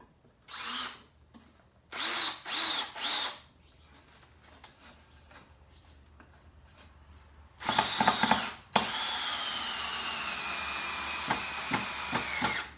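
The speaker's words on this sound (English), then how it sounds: "And that drill's already sounding bad." A power drill whirs in short bursts, then runs loudly for several seconds with a whining tone that dips and stutters as it works.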